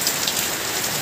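Heavy rain pours steadily onto a surface, a dense, loud, unbroken hiss of drops with no voices over it.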